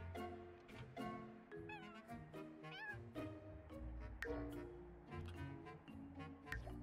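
A cat meows repeatedly in a hotel video game, several clear rising calls over steady game music and ambient sound.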